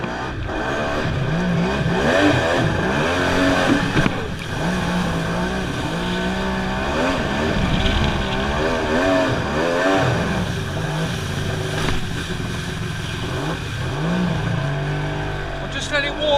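A 1050 cc two-stroke jet ski engine runs loud and close, warming up with repeated rising and falling revs over a steady rough drone, with people talking over it.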